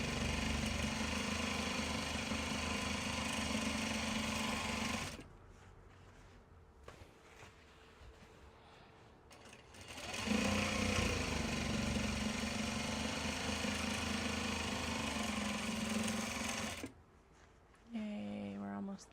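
Sewing machine stitching Japanese fabric bags: a steady motor whir runs in long stretches, stops for a quieter pause with small handling noises, then resumes loudly before stopping again.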